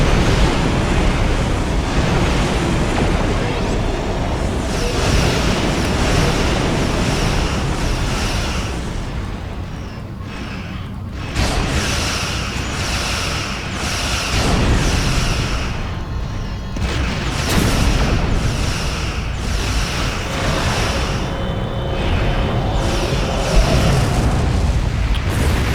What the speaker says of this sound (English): combined with beams, the phase torpedo is quite effective